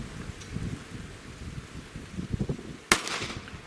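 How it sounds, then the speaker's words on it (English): A single loud, sharp gunshot from a 9mm pistol fired over a chronograph cracks out near the end, after a stretch of soft wind and rustling outdoors. "I'm just going to shoot 3 shots just so you guys can get an average of what the velocity and foot-pounds of energy are"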